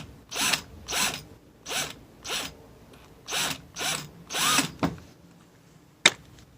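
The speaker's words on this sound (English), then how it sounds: "drilling a hole there, put it through, screw on" Power drill boring a hole through a thin plastic car grill while installing front splitter support rods, heard as a series of short, whirring bursts repeated in a steady rhythm, close and fairly quiet, ending with a sharp click.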